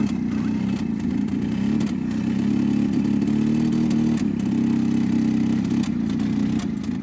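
A 1987 EZGO three-wheeler golf cart engine runs rough and steady with a low throbbing drone and uneven clatter, backfiring through a leaking intake gasket, loud and close throughout with no talk.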